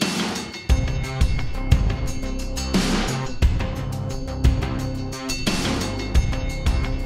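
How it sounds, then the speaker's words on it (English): An Arturia ARP 2600 synth plays its 80s trip preset: a loud, busy polyrhythmic sequence in a 3/4 feel, with punchy repeating hits throughout and no voices. "one of my favorite synths in the world is the ARP 2600 from Arturia"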